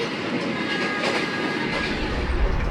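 Old executive-class passenger carriage on the KA Mutiara Timur train in Indonesia rolling along steadily, a continuous loud rumble with rhythmic clickety-clack of wheels over rail joints, no voices.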